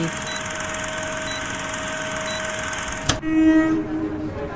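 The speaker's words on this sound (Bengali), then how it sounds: "প্রথমে আমরা ট্রেন ধরে বেরিয়ে পড়েছিলাম আজকে, এবং ট্রেনে উঠে তারপরে তো বসে পড়লাম আমি" A passenger train rumbles along with a steady, loud rolling drone, then a sharp jolt and a brief tonal whistle-like sound near the end.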